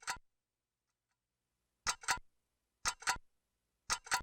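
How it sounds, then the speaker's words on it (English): Ticking from the Only Fools and Horses multimedia video game: an isolated tick, then three evenly spaced pairs of crisp clicks, each double tick ringing out against silence. "Just the ticking and the crash sound."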